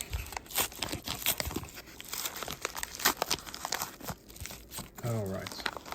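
A small paper envelope is handled and opened during an unboxing, with close crinkling and tearing rustles coming in bursts, and a voice speaking briefly near the end.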